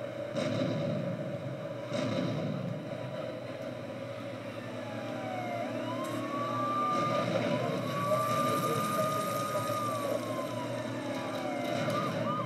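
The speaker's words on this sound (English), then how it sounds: "Shoot the helicopter." A helicopter in the video game GTA III drones steadily with a dense, loud rotor rumble, while rising and falling siren wails sweep through the mix.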